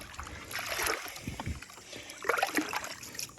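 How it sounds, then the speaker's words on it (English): A C8 Corvette Attack Blue air filter swished and agitated in water, close sloshing and gurgling splashes in a couple of bursts, moderately loud with brief quieter gaps. "Let's just give that a little bit of"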